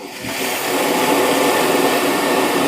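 A Roborock Qrevo Edge robot vacuum's dock auto-empties its dustbin with a loud, steady rushing suction whoosh that swells in the first moment and then holds evenly, with no talking.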